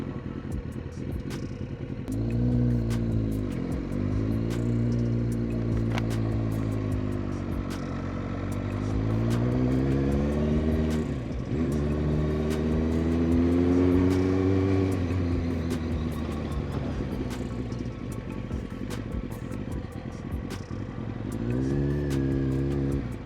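Road traffic around a Kawasaki ZX9R motorcycle on a city ride through Birmingham. Nearby engines rev up and settle repeatedly, with a steady rumble and occasional clatter throughout.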